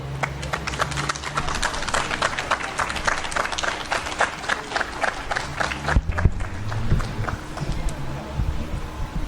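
Warm audience applause greeting a woman doctor honored at an academic lecture on neoliberalism: many close, quick handclaps in a lively rhythm that continue for several seconds before thinning out.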